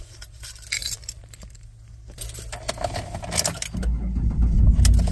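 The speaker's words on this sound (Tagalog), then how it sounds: "start natin yung sasakyan." Keys jangle and rattle close by at a car's ignition, followed by the engine cranking and catching into a low, building rumble toward the end.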